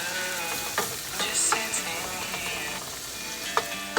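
Tomato and scallion fry in butter in a pan for a bacon veggie omelette, a soft steady sizzle broken by scraping stirs and a few clinks of the utensil against the pan.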